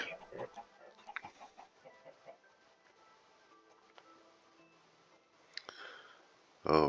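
Chickens cluck intermittently in the video game Minecraft, soft scattered clucks and clicks on a quiet backdrop, ending with a louder close cluck; a voice talks faintly at times.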